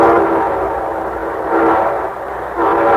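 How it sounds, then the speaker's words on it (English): Radio-show train sound effect for a railroad program: a steady, loud rolling rumble with a sustained whistle-like horn tone that swells at intervals across three seconds, with no voices. "And here comes our star-studded show train."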